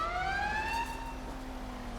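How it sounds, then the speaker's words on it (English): The siren of a fire engine in a FiveM modification of Grand Theft Auto V wails with a falling electronic tone. It is moderately faint against a low rumbling background, with no voices. "here's the fire engine right here"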